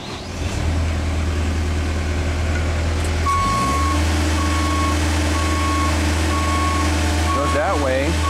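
A Genie lift with a drive fault whirs loudly as it idles and then starts moving, a steady electric-hydraulic drone joined by regular, evenly spaced beeps. A brief squeal and some background voices come near the end.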